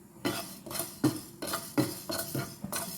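Fenugreek seeds roast in a hot pan for pineapple pachadi, stirred with a metal utensil: a near, rhythmic series of scraping clinks, roughly one every half second, with no talking.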